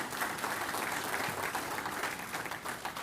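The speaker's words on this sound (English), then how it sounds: "I think that deserves a round of applause." Applause from the audience at an annual convention of township officials, a dense, steady wash of many hands clapping that holds evenly for about three seconds with no voices over it.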